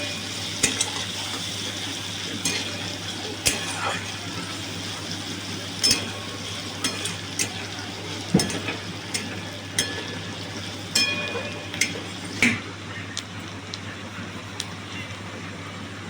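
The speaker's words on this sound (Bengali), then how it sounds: "দিয়ে দেবো একটু রসুন কুচি, দিয়ে দেবো আদা কুচি। একটু ভালো করে নেড়ে দেবো" Chopped garlic and ginger fry in a pan with a steady sizzling hiss, broken by frequent sharp scrapes and clicks of a utensil stirring against the metal throughout.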